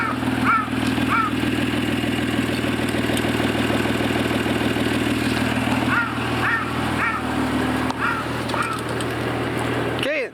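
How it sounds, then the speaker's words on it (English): A 1991 Honda NSX engine idles with a deep, throaty rumble through an aftermarket titanium exhaust, steady and close, with faint higher chirps in the background. "Aftermarket exhaust, which actually is titanium tip and sounds awesome."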